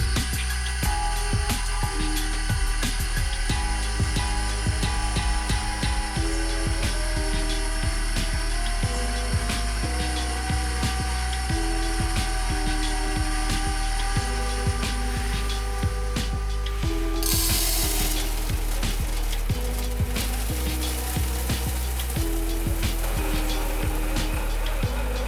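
A grain mill crushes malt at its slowest speed, 46 RPM, with a continuous low mechanical drone and steady grinding crackle that runs evenly throughout, close and fairly loud.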